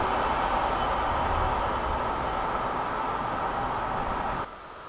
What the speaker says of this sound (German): Es ist der allsonntägliche Smart Rail Logistics KLV-Zug von Dresden-Friedrichstadt nach Emden an der Nordsee ins dortige VW-Werk.